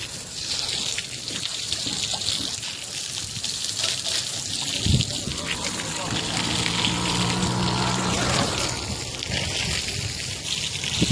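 Water is pumped out of a flooded chamber: a steady mechanical pump hum runs under the gush and trickle of flowing water, with a few clunks and a tone rising in the middle.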